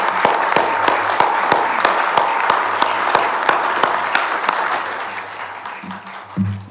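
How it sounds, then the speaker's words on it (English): A council chamber audience gives Ken Clarke a sustained round of applause, dense steady clapping that tapers off near the end, with a few low murmurs underneath. "can I please ask you to put your hands together for a round of applause for Mr. Ken Clarke"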